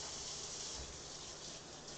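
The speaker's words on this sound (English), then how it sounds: "A little rinse." Tap water runs steadily over a raw pork loin in a kitchen sink, a faint, even rushing hiss with no breaks.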